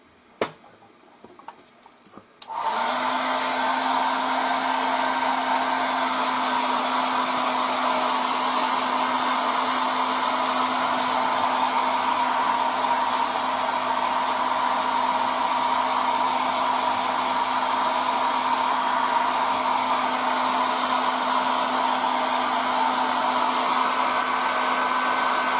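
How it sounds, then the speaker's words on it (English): A hair dryer blows on a freshly painted 1:72 scale model base, switching on after a few faint clicks and then holding a loud, steady whirring drone with a constant tone. "Now let's go with the dryer."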